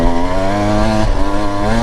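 Husqvarna TE 150 TBI two-stroke dirt bike engine revving hard in second gear, a loud, steady buzzing drone close to the rider with no pause.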